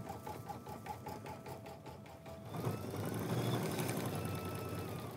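An embroidery machine stitches a green applique leaf with a fast, even mechanical pulse that shifts into a denser, busier whir partway through, close and alone without talking.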